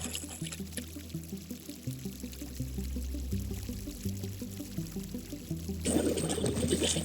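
A kayak is dragged through very shallow water on the Cahaba River, making continuous close sloshing, pouring and trickling sounds with no one talking.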